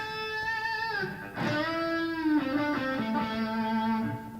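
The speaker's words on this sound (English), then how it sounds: "I call it raking into a note" A distorted electric guitar rakes through palm-muted strings into a sustained, ringing note, loud and close with no voices.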